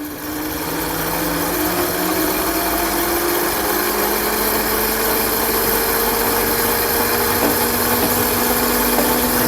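A car alternator rigged as an electric bicycle motor whines steadily and loudly, its pitch rising slowly as it speeds up, with a constant close electrical hum and no voices.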